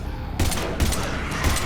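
Gunfire in the video game Mass Effect Legendary Edition, Leviathan DLC: three heavy, close bursts of shots come at roughly even intervals over a constant loud background of combat noise.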